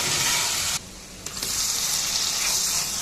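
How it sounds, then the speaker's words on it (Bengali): Ginger, onion and garlic paste sautéing in oil in a pan for crab curry, a steady close sizzle that cuts out briefly partway through and then comes back. "আদা পেঁয়াজ রসুন পেস্টটা যেটা দেওয়া হয়েছে ওটা ভালো করে কষিয়ে নিতে হবে"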